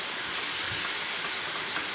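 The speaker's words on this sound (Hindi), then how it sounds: "अच्छे से सौते करने के बाद मैं यहाँ कीमा ऐड कर रही हूँ।" About a kilogram of minced meat (keema) sizzling in a hot pan for tawa keema, a steady loud hiss and crackle that continues without a break and with no talking.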